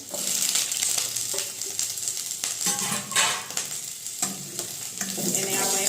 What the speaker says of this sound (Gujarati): તો તેલ તપી ગયું છે હવે આપણે એમાં બધા વેજીટેબલ નાખી દઈશું